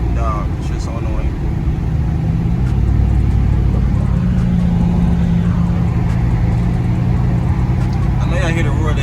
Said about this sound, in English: I know y'all hear the roar of that V8 though.